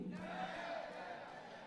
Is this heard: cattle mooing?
no